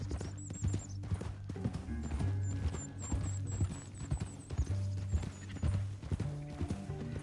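Steady clip-clop of horse hooves in Red Dead Redemption 2, fairly close, with a faint whinny and high chirping sounds over a low rumbling background.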